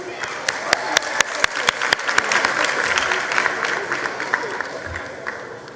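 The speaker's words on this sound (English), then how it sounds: "A round of applause once more." An audience claps at the 2023 matric results announcement by the Basic Education Minister, a loud, sustained round of applause with sharp individual claps standing out over the crowd, fading slightly toward the end.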